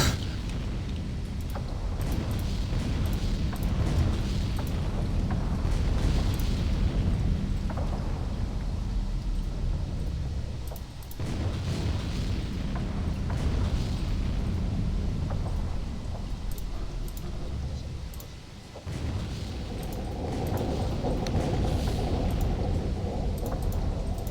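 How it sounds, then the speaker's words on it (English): Explosions from enemy bombing in a naval combat video game: a continuous heavy, rumbling wash of blasts and booms with a few stronger surges, loud and dense throughout, with no clear talk. "they're bombing us now"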